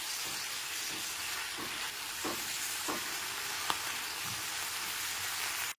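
Tomato paste frying in a pan for a spring onion curry, a dense steady sizzle under soft occasional stirring scrapes, close and even throughout, with no talking.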